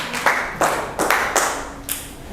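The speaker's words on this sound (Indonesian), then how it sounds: "Boleh tepuk tangan ya untuk kelompok 3 ya." A small group applauds a student team after their business idea presentation; a handful of distinct, fairly loud claps fall at uneven intervals in a quiet room.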